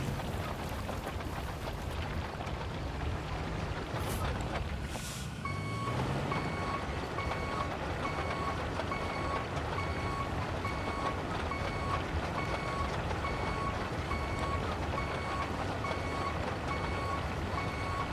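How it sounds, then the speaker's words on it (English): A steady electronic reversing beep from a truck in the video game RoadCraft repeats at an even rhythm over a low rumbling engine drone, continuing without pause for the whole stretch. "this beeping noise will surely drive me crazy before everything else"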